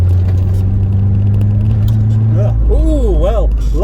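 Car engine drones steadily while driving, then the tone drops as the gear changes from third into fourth, with someone talking over the engine.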